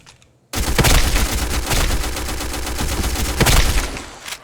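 Automatic rifle spray fire from the Black Squad video game comes as a loud, unbroken rapid burst lasting several seconds, starting abruptly after a brief quiet moment and fading at the end.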